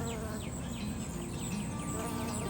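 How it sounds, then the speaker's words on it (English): A bee buzzes steadily and close among flowering basil plants gone to seed in a fall garden, a continuous drone with faint rising insect whines and no voices. "Let's look at this bee going to work in here."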